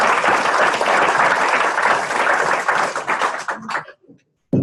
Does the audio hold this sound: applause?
yes